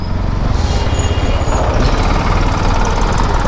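A motorcycle engine runs close by with a loud, steady, rough rumble that holds throughout without pause.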